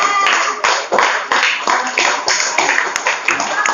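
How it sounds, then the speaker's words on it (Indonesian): Students in a classroom clap for a group that has just presented, a brisk, uneven round of many hands with sharp individual claps standing out, sustained throughout. "beri tepuk tangan dulu dong untuk kakak lantai ya"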